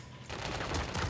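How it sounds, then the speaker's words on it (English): Gunfire in the Modern Warfare 3 video game on the Favela map, a sudden burst of rapid automatic shots starting after a short quiet moment and continuing loud and dense. "Who is shooting at me?"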